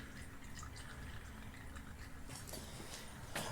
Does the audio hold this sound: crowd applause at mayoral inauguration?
no